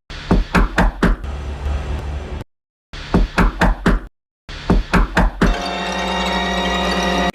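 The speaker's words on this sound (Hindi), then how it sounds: "बार फिर से नॉक किया।" Knuckles rap on a hotel room door in three separate bursts of four or five sharp, close knocks, divided by brief silences, with a steady hum rising underneath after the last burst.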